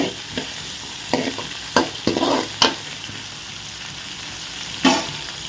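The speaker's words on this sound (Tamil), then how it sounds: "ஒரு ஐம்பது கிராம் நல்லெண்ணெய் போட்டு நல்லா வதக்கி விடுவோம்" Onions sautéing in about fifty grams of sesame oil for a fish curry, a soft steady sizzle broken by several sharp scraping and clattering stirring strokes, close, no talk.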